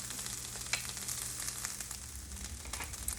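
Corn tortillas cooking in a pan for vegan enchiladas, a soft steady sizzle with faint scattered crackles, fairly quiet and close, with no one speaking.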